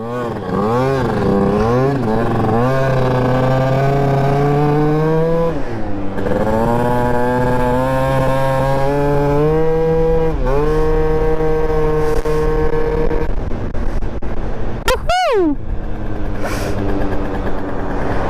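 Scooter engine running continuously and loud, rising and falling through repeated revs with a sharp high whine near the end, hard to start and warming up in cold weather.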